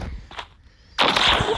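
A sniper rifle shot fires in a video game, a sudden loud broadband blast that cuts in sharply after quieter game sounds and sustains briefly as a dense burst.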